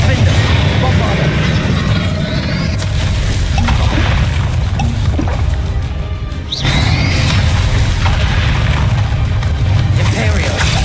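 A Bombarda spell explosion in Hogwarts Legacy booms loud and close amid continuous battle noise, with crashes and whooshes throughout and a brief dip in the middle before the din resumes; a voice speaks over the action.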